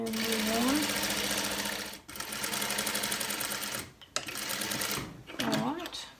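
A sewing machine back-stitches a gusset on a dress in several loud close bursts of rapid stitching, separated by brief pauses, with the pitch of the motor rising and falling as it starts and stops.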